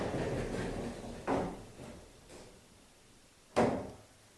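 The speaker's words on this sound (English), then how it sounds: "you'll see that when the doors close," Pocket doors slide shut inside a wall during installation, giving a rolling scrape followed by two distinct thuds as the panels meet, close and fairly soft.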